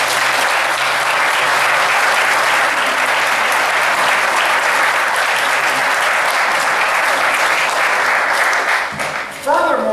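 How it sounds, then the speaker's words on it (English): A crowd at a county arts center's annual amateur art exhibition applauds loudly and steadily for about nine seconds, the clapping thick and continuous before it thins and a voice begins speaking at the very end. "Let's give a round of applause."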